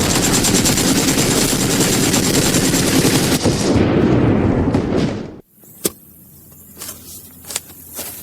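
Dense, sustained gunfire sound effect in a stage battle scene at a school annual function, a loud continuous rattle lasting several seconds, then cutting off and leaving a few scattered single shots and thumps.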